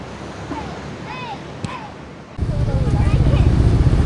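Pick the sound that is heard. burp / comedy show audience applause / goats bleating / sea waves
sea waves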